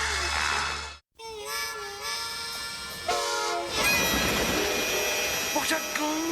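Cartoon train in the animated action series Biker Mice from Mars, a loud mechanical rumble with sustained horn-like tones, cut by a brief silence before swelling again with clattering and rising pitch.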